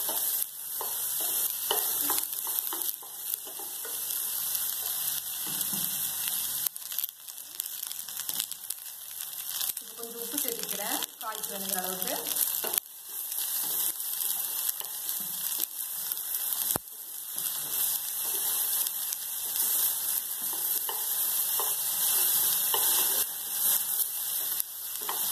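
Onions fry in a pan for a vegetarian feast, giving a steady hissing sizzle for the whole stretch, with occasional scraping and stirring noises over it.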